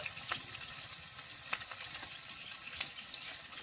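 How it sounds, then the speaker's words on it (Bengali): Ginger paste, cumin and turmeric fry in hot oil for a radish ghonto, giving a soft, continuous crackling sizzle with a few brief sharp spatters and light stirring scrapes. "ঝটপট মশলাটা একটু ভেজে নেব"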